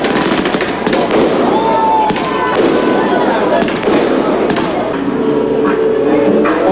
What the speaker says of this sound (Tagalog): Nagkaroon din ng fireworks display.